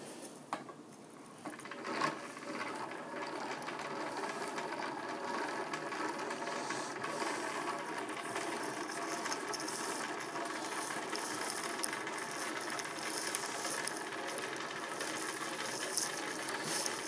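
A spindle wheel turns steadily while yarn is spun from fluffy pre-drafted wool locks, giving a continuous close mechanical whir with light ratcheting clicks throughout, no voices.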